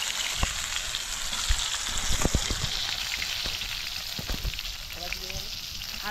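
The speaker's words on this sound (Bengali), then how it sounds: "এই মাছটা আমার ভাজা হয়ে গেছে" Pond-raised rohu fish fries in a pan of hot oil, a steady close sizzle broken by scattered sharp pops and crackles, with no voices.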